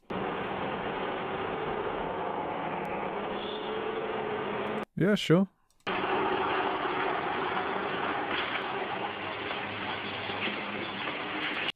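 AI-generated dense, steady rumble of traffic and busy city street noise, briefly cut off while a person gives a short spoken reply, then the roar resumes.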